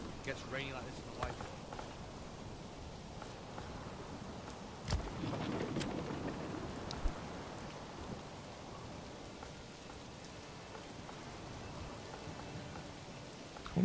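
Steady rain patters in the medieval city-building game Manor Lords, a soft, even wash of falling drops at low level, with a voice talking over it now and then.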